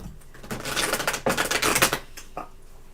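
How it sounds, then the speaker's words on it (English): Tarot cards shuffled by hand, a quick run of crisp, rapid clicks and riffles in short bursts, close and fairly quiet. "I'll be shuffling and waiting for Estelle's question"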